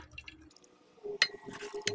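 Water poured into a glass vessel while rinsing gold recovered from plated pins and electronic parts, heard as soft, near trickling and dripping splashes with a couple of sharp glassy clinks, quiet throughout.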